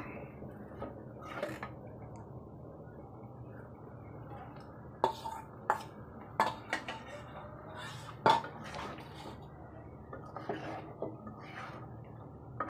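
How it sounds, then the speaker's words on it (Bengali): Chicken being stir-fried with boiled chana dal in a pot, quiet scraping and stirring with scattered metallic clinks and knocks of a utensil against the pot, faint and close, with occasional soft speech underneath. "সেই সেদ্ধ ডালগুলো এখন আমরা দিয়ে দিলাম মাংসের মধ্যে এবং এটাকে আমরা এখন কষায় নিব মাংস দিয়ে"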